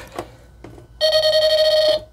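A Dungeons & Dragons Electronic Labyrinth board game gives its wall-hit signal: a sustained, bright electronic tone that holds for about a second after a couple of faint clicks.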